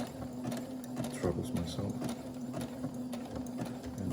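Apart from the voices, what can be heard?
sewing machine stitching underwear repair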